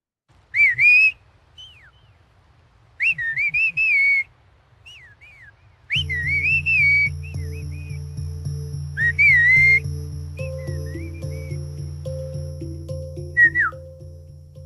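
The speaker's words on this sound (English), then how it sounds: "This is a whistled language" Mazateco whistled language from Mexico, clear sharp whistled phrases with rising, falling and warbling pitch contours, close and loud, in short bursts separated by pauses, later over a sustained low musical drone.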